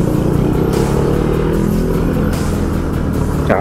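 Small Honda Beat scooter threading through congested Metro Manila rush-hour traffic, a steady close engine drone with low rumble and surrounding road noise throughout, no talking.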